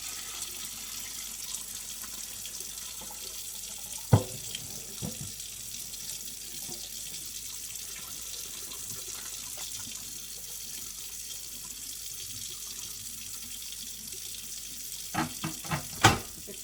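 Dirty vegetable-washing water from cooking barbacoa empties into a kitchen sink, a faint steady running wash broken by a few sharp knocks and clatters near the start and end.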